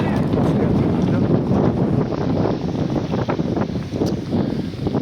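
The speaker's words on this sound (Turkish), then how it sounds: "Rüzgar bayağı bir yoğunlaştı." Strong, intensifying wind at Kovalık, Turkey, roars and buffets the microphone continuously, with gusty rumbling throughout and a voice faintly beneath it.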